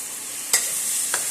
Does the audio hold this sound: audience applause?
no